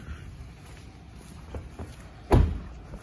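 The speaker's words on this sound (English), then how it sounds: "Open the trunk." A 2017 Chevrolet Impala trunk releasing: one short, solid thunk of the latch popping open, heard alone against a faint background hum.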